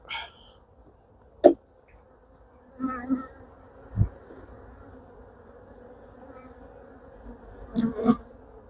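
Honey bees in a queenless hive after spring, heard as a low steady hum running throughout, with a few sharper knocks and brief louder buzzes close by, no talk.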